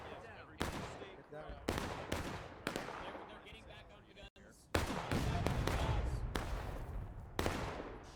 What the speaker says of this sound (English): Here we got EB squaring off, doing some distance firing here.